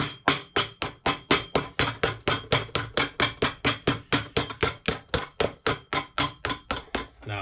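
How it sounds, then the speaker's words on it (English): A hammer strikes a leather shoe sole while an Allen Edmonds Strand shoe is resoled with a Vibram sole. About two dozen crisp, evenly spaced blows land in a steady rhythm, close and loud, with no talking. "gotta do a little bit of hammering."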